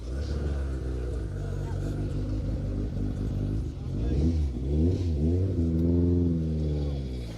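A rally car competing at the Hills Ford Stages 2024 accelerates hard, its engine rumbling and revving upward through repeated rising sweeps, with commentators talking over it.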